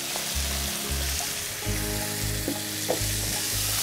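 Chopped onions and crushed garlic sizzle in a pan with a steady crackling hiss, punctuated by soft scraping and stirring knocks, fairly quiet and close, with no voice.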